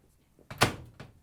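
Front-loading LG/Kenmore washing machine door swung shut by hand during a repair, a single solid thunk with a short latch click, close and clear with a softer knock just after.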